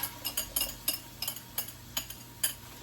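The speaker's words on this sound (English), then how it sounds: "I know it looks weird using a whisk" A whisk scrapes and clinks against a pot while onion sautés, in quick, regular metallic strokes with no talking.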